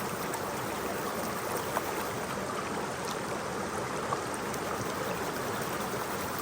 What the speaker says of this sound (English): So I'm just gonna pan this like I was panning for gold and try to get everything in the center here.